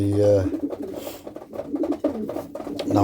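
Pigeons in an allotment loft feed close by, making a low, throaty coo at the start and end with soft pecking and shuffling between the calls.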